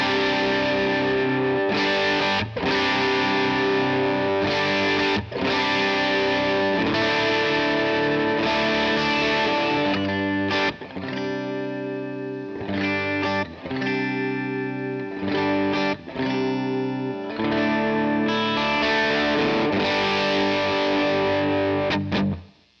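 An electric guitar runs through a Helix Native Vox AC30-style amp model, strummed as driven, slightly crunchy chords in a rhythmic pattern, loud and full, with no speech, before a final chord cuts off.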